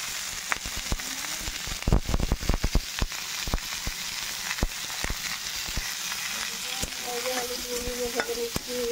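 A pan of frying aromatics for vegetarian moong dal crackles steadily while a spoon scrapes and clacks in irregular bursts, loud and close, with no talking.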